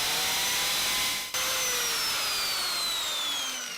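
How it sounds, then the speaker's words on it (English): A power drill whines steadily, high and close, drilling into a broken bolt on a Jaguar S-Type, bites briefly with a dip in pitch, then keeps grinding on at a constant loud level. "now let's drill one more on the opposite side"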